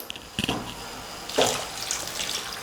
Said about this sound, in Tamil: இப்போ இந்த மாதிரி ஒரு தடவை கலந்து விட்டதுக்கப்புறமா நம்ம இதில் தண்ணி சேர்த்துடலாம்.